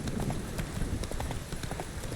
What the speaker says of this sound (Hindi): चल मेरे घोड़े